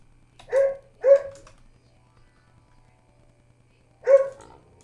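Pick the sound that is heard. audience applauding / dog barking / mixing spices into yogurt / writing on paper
dog barking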